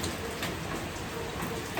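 Steady rain falls in a continuous, even hiss with scattered drop patter, moderately close and alone without talk.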